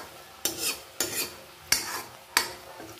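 Chicken curry masala is stirred in a pan over low flame, four distinct scraping strokes about half a second apart, each trailing off into a soft sizzle, close and alone.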